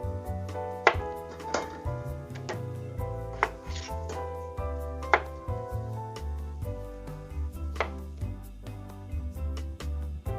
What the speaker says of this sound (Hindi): आलूओं को हम बड़े साइज में काटेंगे